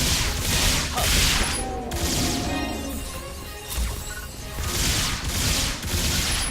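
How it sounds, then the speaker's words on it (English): A Ranger-class character in the online action game PSO2 unleashes a stream of gunfire, with rapid bursts of shots and crashing impacts coming in waves, loud and close, with no talking. "You're moving back and unleashing a stream of bullets"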